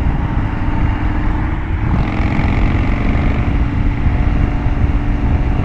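A loud engine roars steadily up close, its deep exhaust drone holding strong with a slight shift in pitch partway through.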